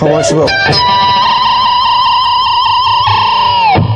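Bright, sustained electric guitar harmonics with a rapid trill fluttering on top, drenched in effects, loud and close before dipping away.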